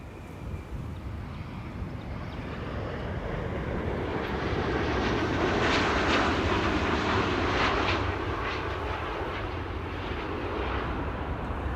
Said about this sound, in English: Qatar arriving from Doha. Will they use the reversers?